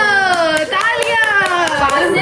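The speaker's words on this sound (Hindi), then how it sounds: "तालियां।" Scattered hand claps from a small group at a family Eid gathering with a children's game, about half a dozen uneven claps mixed under steady voices and chatter.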